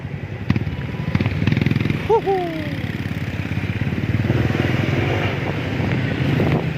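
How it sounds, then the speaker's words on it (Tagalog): Motorcycle engine droning steadily as it rides, with brief voice sounds partway through and a rising, uneven hum. "Motor ni Burnok ginamit namin"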